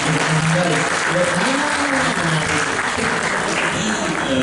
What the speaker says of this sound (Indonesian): Tepuk tangannya dong yang luar biasa